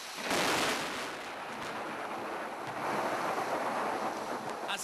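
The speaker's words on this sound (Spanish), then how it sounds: "con un fuerte aguacero acompañado de descargas eléctricas" A heavy afternoon downpour with lightning over Medellín, a dense, steady roar of rain that stays loud throughout with slight swells and no talking.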